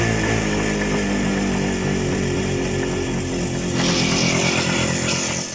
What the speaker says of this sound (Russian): Обороты он задрал дико